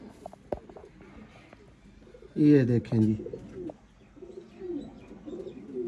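Sialkoti breeder pigeons give a loud, close burst of throaty cooing in two rounds, followed by softer coos, while someone talks nearby.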